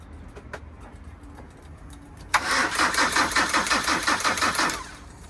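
A sailboat's engine being tested cranks over with a rapid rhythmic chug from the starter for a few seconds, loud and close, then stops; before it a quiet background with faint chirps.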